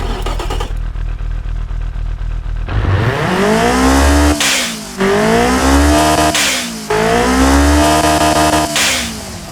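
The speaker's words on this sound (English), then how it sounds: "Turbocharger is running well, pushing fuel, pushing the boost." A turbocharged Toyota 2T-G engine in the Automation game revs repeatedly, climbing through the range in several loud rising sweeps, dropping back between pulls, with an engine drone before the first rev.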